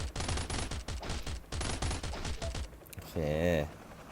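Bursts of automatic gunfire in the survival shooter Last Island of Survival crackle in a rapid rhythmic stream at moderate volume, broken by a brief pause before a final louder shot.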